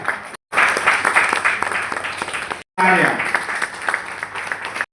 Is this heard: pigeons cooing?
no